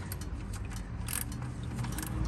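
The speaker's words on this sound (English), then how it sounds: "I'm going to use a 17mm socket on the oil drain to unscrew it" A socket ratchet with a 17mm socket unscrews an engine oil drain plug, giving quick faint clicking and grinding ratchet sounds over a couple of seconds, close and alone.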